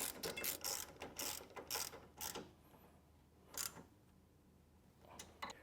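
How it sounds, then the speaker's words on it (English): A ratchet tightens a thread-locked floorboard mount bolt on a motorcycle during a brake arm pedal kit install, clicking in several rapid close bursts separated by short pauses. "Make sure you throw some thread locker on the bolt beforehand, and then go ahead and tighten it down."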